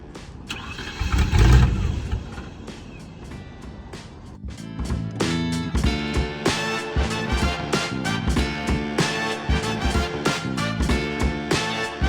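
Land Rover Discovery 1 engine cranking and catching after running out of fuel and being refuelled, a loud burst of starter and firing, then a steady pulsing idle with rhythmic mechanical ticking continuing throughout.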